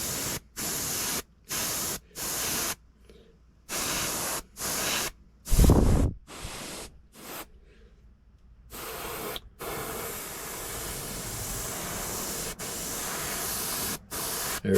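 An airbrush sprays Vallejo red paint as a second coat, sounding as a run of short hissing bursts with clear gaps, then a long continuous hiss.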